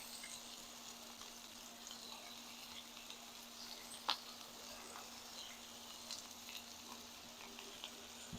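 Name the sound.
butter cubes and garlic sizzling on a hot surface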